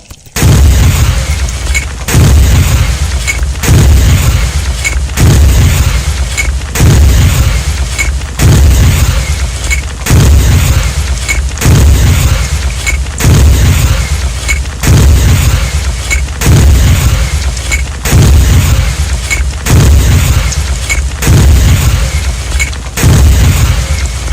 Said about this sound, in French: Il faut tirer jusqu'à casser le mur.